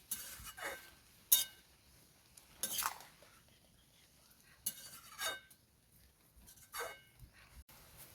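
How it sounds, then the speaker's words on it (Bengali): A utensil stirs fenugreek leaves in a pan with soft, intermittent scraping swishes that come in separate bursts at a moderate distance, set against quiet background. "মেথি শাকটাকে একইভাবে আমি নাড়াচাড়া করে মিক্স করে নেব"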